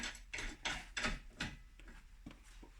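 Bolt and nut being fitted by hand on the rear brake disc of a 2021 Mitsubishi Eclipse Cross, giving a series of close, faint metallic ratcheting and scraping clicks in rhythmic bursts, with no talking.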